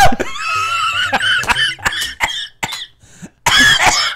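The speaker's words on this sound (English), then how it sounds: "You know I have a wheezy cough" Several harsh, raspy coughs in quick bursts, close and loud, mixed with breathy laughter and a brief pause before a final rough burst.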